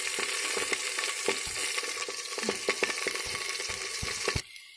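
Onions, curry leaves and green chili fry in leftover oil with cumin, making a dense continuous sizzle broken by frequent utensil taps and scrapes, close and loud, ending abruptly.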